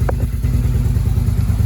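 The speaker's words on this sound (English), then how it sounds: "fuel pump running." An old sportbike's fuel pump runs right after the key is switched on, a steady, close mechanical hum and whir holding at an even level throughout with no voices.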